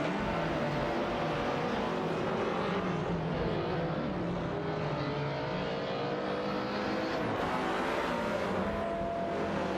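Several race cars in a racing game scream past in close traffic, their engines revving and shifting in overlapping, wavering tones. The sound is loud and continuous with no pauses, and no voices.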